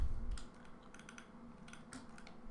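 Fingers tap quickly on a computer keyboard in a quiet room, a soft, irregular run of light clicks with small pauses between bursts.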